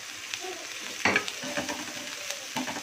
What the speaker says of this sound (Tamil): எண்ணெய் காஞ்ச உடனே வெங்காயம் சேர்த்துக்கலாம்